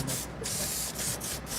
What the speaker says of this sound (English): Tim uses Axe body spray on himself.